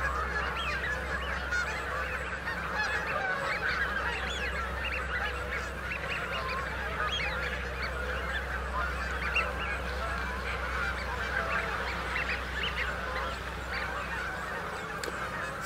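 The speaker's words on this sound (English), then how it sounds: "suddenly a mass of Canada geese took off, flew a circuit," A large flock of Canada geese honks continuously in flight, a loud overlapping chorus of calls that stays steady throughout, with a low rumble underneath.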